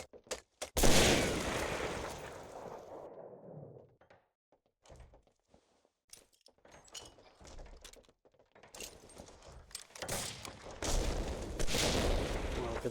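Grenade blast and gunfire in Medal of Honor: Allied Assault during a snipers league match: a loud burst near the start trailing off over a few seconds, scattered sharp shots and thuds through the middle, then heavy sustained firing toward the end.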